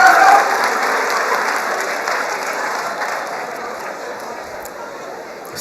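An audience applauds steadily, a dense wash of clapping that slowly fades over several seconds, with no talking over it.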